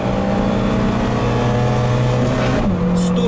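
Loud in-cabin drone of a 16-valve Lada 2114 accelerating hard, a steady engine roar with rising tones before a gear change dips the pitch and it climbs again.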